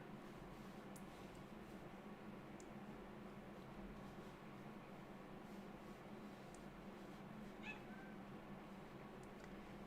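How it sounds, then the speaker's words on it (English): A cat meows faintly a few times, distant and partly buried under a steady broadband background hiss. "There's a cat. I hear cat."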